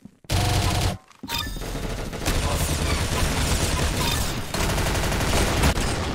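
Dense, continuous gunfire in the Roblox game Arsenal, loud rapid shots layered almost without pause after a brief opening burst and a short silent gap.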